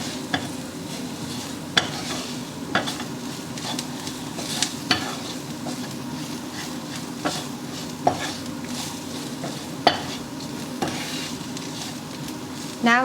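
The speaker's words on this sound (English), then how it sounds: "I'm going to fry these all masalas with garlic, ginger paste and onion." Masalas frying with garlic, ginger paste and onion for a chickpea curry: a constant even sizzle with regular spoon taps and scrapes against the pan every second or so, close and steady.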